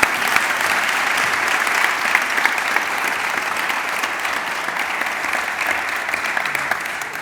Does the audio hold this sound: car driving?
no